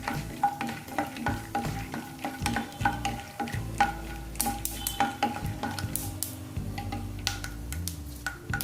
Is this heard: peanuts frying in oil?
yes